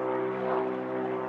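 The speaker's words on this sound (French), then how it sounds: "J'adore les avions!" Airplane flying overhead during an outdoor dog clicker-training session, heard as a steady, continuous engine drone with a humming tone, moderately loud and unbroken for the whole moment, with no talking.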